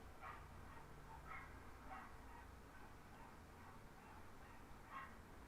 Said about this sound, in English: sorry, there's dogs barking.